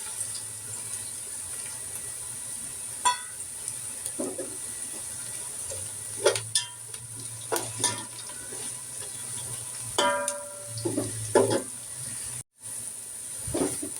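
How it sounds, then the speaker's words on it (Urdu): Whole garam masala sizzles and hisses with onions in a hot pan, a steady fry broken by scattered clinks and scrapes of stirring, close and alone without speech. "گرم مسالے کو میں نے فرائی کر لیا ہے"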